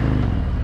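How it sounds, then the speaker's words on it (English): A motorcycle engine runs loud and close in a brief burst of low, throbbing mechanical tone, sustained without a clear rise or fall. "you want to hear the revs."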